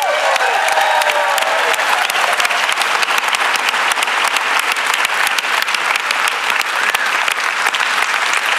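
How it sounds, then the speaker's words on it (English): Loud, sustained applause from a leadership-event audience thanking the day's speakers, thick and continuous with a few faint whoops early on. "How about a round of applause for all of our speakers today?"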